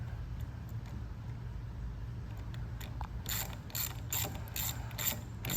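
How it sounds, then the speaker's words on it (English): A hand ratchet wrench clicks in short bursts of quick, close ratcheting as it gently snugs bolts on an AR45 outlet manifold, following a quieter stretch of faint handling noise. "Now with my regular ratchet"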